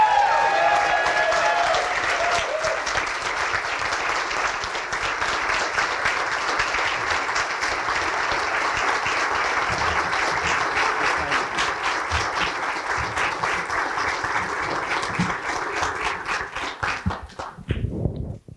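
Event crowd gives a long, loud, continuous round of applause for a speaker, dense clapping holding steady for many seconds before quickly dying away at the end.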